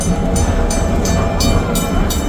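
A steam locomotive on a heritage railway in Germany blows a loud, sustained whistle in several pulsing blasts over the steady rumble and clatter of the moving train, heard from on board.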